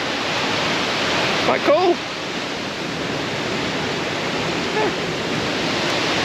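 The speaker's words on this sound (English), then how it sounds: "that's the biggest unbroken waterfall in England" England's tallest unbroken waterfall makes a steady, full roar of falling water, close and constant, while someone speaks briefly over it.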